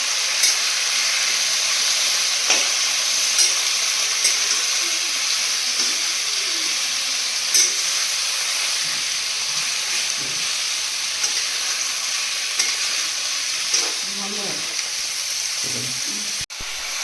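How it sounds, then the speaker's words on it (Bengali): Green chili paste fries in a pan with a steady, even hiss lasting throughout, broken by occasional soft scrapes and a brief clatter near the end. "মোটামুটি এখন হয়ে গেছে ভাজা ভাজা"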